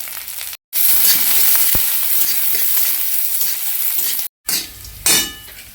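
Whole green chilies frying in hot oil, a loud, close crackling sizzle that runs almost continuously, cut by two brief silent gaps and a sharp spatter burst near the end.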